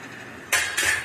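Soft pav bread rolls pressed onto an oiled pan for pav bhaji, giving two quick scraping, clattering contacts of bread and metal against the pan, near and fairly loud.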